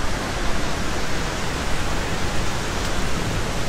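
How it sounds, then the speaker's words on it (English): A loud waterfall at Ambleside roars as a continuous, dense rush of falling water, steady and close with no voices over it. "There's your waterfall."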